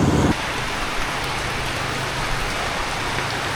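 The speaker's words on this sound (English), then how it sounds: "we've got ourselves caught in one of these rain squalls" Heavy rain squall pours down outdoors on a rural road near Cần Thơ, Vietnam, a dense, steady hiss filling the whole stretch, with a louder burst at the very start.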